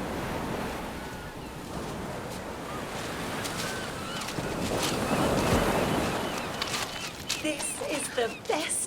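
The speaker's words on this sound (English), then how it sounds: "where the breakers tumble along the sand." Ocean breakers tumbling along a sandy beach, a steady broad wash of surf that swells louder midway, with wind noise and faint bird-like chirps near the end.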